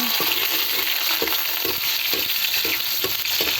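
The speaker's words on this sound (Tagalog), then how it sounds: "Nagisa na tayo ng bawang." Garlic sautés in a pan with a constant close sizzle, while a spatula stirs and scrapes in a regular rhythm of about seven strokes, with no voices.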